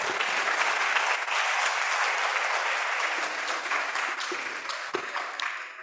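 A crowd applauds sponsors at a national yogasana sports championship in Zambia, with dense, sustained clapping that holds steady for several seconds before tapering slightly, a few louder individual claps standing out.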